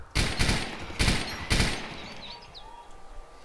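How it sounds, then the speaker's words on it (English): Full-auto machine gun fire at an Arma 2 firing range: a few short loud bursts in quick succession, then the echo fades into quiet outdoor ambience with faint birdsong. "obviously machine guns only have full auto"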